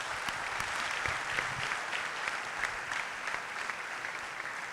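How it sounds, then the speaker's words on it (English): Steady applause from a seminar audience, a dense even wash of many hands clapping that holds its level throughout, with a few sharper nearby claps early on. "a huge round of applause for him"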